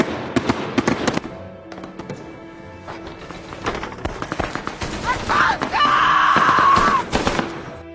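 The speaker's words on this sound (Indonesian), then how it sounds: "suara tembakan senapan api terdengar sangat keras" Loud sharp gunfire from firearms cracks outside a house in irregular bursts, some in quick succession, with a brief high shriek rising near the end.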